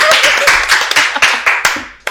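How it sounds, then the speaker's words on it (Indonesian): A small studio audience claps loudly and close, a quick run of hand claps that thins into a few scattered sharp claps near the end. "tepuk tangan dong"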